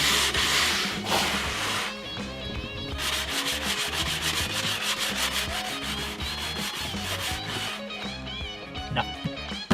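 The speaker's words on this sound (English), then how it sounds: "keep doing this until you see no more wax come up when you use the brush" A stiff brush scrubs wax off a snowboard base in steady, rapid back-and-forth strokes, a loud, close, continuous scraping and rubbing with no voices.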